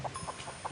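A chicken outdoors gives a quick series of short, soft clucks, about four or five in under a second, close by and with no one speaking.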